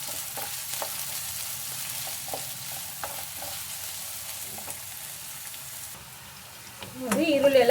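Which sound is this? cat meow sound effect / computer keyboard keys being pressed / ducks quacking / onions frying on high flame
onions frying on high flame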